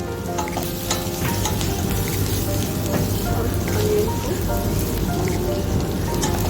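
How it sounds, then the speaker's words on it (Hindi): Tomatoes and spices for butter chicken frying in a pan, a loud, dense, steady sizzle and crackle with sharp pops, continuous throughout and close up. "जब तक टमाटो सॉफ्ट नहीं हो जाते तब तक इसे हम अच्छे से पकाएंगे"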